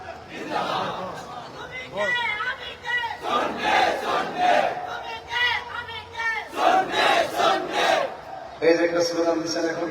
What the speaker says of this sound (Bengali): এই যে একটা স্লোগান দিচ্ছেন এখন